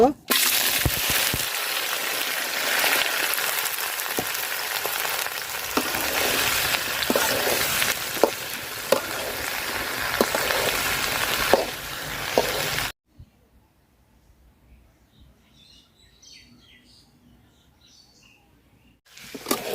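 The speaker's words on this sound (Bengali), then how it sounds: "তেল গরম হয়ে গেছে, আমি ভেন্ডি পেঁয়াজ মরিচ একসাথে দিয়ে দিব" Loud, busy sizzling of okra frying in hot oil with onion and chillies, sharp crackles for most of the clip, then it abruptly cuts to near silence.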